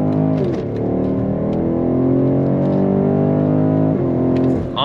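A 2022 BMW X7 M50i luxury SUV accelerates hard on throttle, its engine note loud and rising steadily through the gears in a sustained rev with brief dips at shifts, heard up close with no talking.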